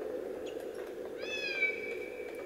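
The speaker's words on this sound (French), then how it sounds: "Le voilà, ton minou." A cat in the Harry Potter video game lets out a single rising, drawn-out meow, heard clearly over a steady low game ambience.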